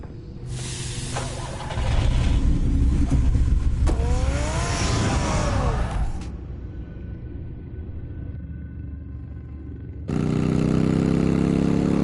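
A car engine drives and revs in a Batman Telltale video game cutscene, with a loud, steady engine roar that swells and fades, then returns loud near the end, no talk over it.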